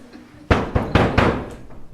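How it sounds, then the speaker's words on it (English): Knocking on a door in a stage performance of Macbeth, five sharp raps in an irregular sequence, close and loud, with no talk over them. "Knock, knock, knock."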